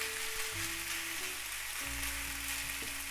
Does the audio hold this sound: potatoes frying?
yes